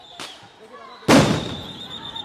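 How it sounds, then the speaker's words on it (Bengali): A police sound grenade goes off during a street clash with protesting teachers at Shahbag, heard as a sudden sharp blast with a rolling tail. A fainter bang comes a second earlier, and crowd noise runs underneath. "এবং সাউন্ড গ্রেনেড নিক্ষেপ করা হলো আবারও"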